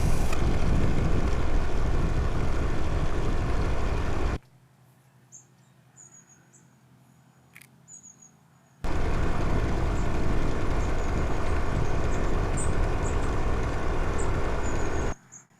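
A Stirling engine powered bicycle runs with the clutch engaged, giving a loud, dense, steady mechanical roar with wind rush. It cuts out abruptly to near quiet for about four seconds and then resumes just as loud.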